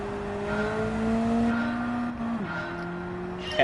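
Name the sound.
race car driving in Gran Turismo 7 video game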